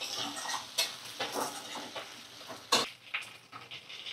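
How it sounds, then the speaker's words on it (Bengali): Sliced onion and potato frying in a pan, a soft steady sizzle broken by occasional clinks and scrapes of stirring. "একটু এটা পেঁয়াজ আলু এখন ভাজা করছি"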